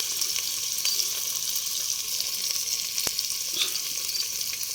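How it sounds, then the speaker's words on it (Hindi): Chopped onions frying in a pan over a wood-fired clay stove while mutton is being prepared, giving a steady bright sizzle throughout with a few faint clicks and taps and no talking. "पियाज को एबे भाजीबा"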